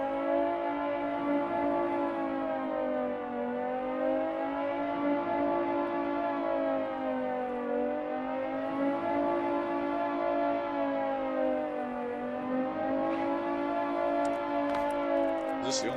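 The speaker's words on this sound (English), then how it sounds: "I'm gonna drive down to the end of the dock and turn the damn siren off." A loud, continuous wailing civil defense siren on an island in the game Stormworks, its pitch rising and falling in slow waves for the whole stretch with faint voices underneath.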